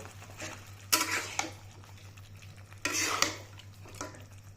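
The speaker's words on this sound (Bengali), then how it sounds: "চিকেনগুলো এই মশলার সাথে ফাইভ মিনিটস কষিয়ে নেব" Chicken pieces being stirred with spices in a pot as Dohi Chicken is cooked: two sharp scraping stir strokes with metal clatter stand out over a low steady hum, with softer utensil scrapes between them and no talking.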